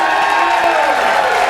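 Comedy club audience claps and cheers in a steady burst of applause with a few whoops, fairly loud and close throughout.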